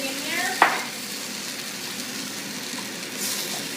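Beef and its marinade sizzle in a hot pan while a spoon scrapes the bottom, a sharp scrape or clatter near the start followed by steady frying hiss that swells again toward the end.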